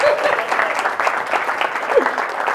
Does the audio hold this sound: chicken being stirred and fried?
no